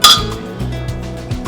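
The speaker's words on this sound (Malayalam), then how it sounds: "ഒരു ഗ്ലാസ് ഇട്ടല്ലോ" A glass is set down with a bright clink at the start, followed by softer knocks of dishes and utensils during a home meal, close and without voices.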